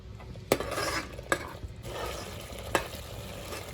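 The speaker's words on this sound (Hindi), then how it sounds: "तो हमें फटाफट से उसको चलाते रहना है, मिक्स करते रहना है" A spoon stirs spice masala with yogurt in a pan over a medium flame for chicken tangdi masala, giving soft scraping and low sizzle broken by three sharp metallic clinks against the pan.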